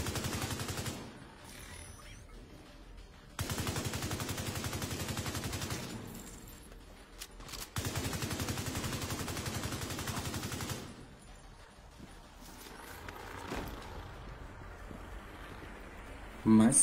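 Rapid automatic gunfire in the video game Tom Clancy's The Division 2 comes in three long sustained bursts separated by quieter pauses, loud and continuous within each volley.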